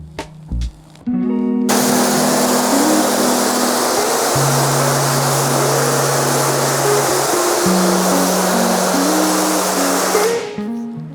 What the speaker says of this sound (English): I'm going to grab the pressure washer, just kind of mist everything down, get a lot of this loose film off right before we even contact wash.